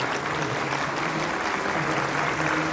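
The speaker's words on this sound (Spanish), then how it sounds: "Yo quiero dar un aplauso a la memoria de Guillermo Cano" Steady, dense applause from a studio audience fills the whole stretch, even and sustained with no voices rising above it, at a podcast taping paying homage to the journalist Guillermo Cano.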